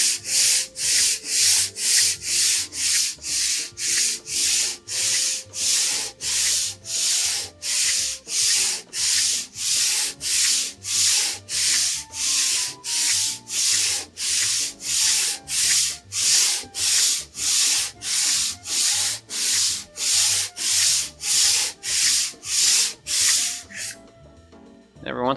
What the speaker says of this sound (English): Get back to good old lapping.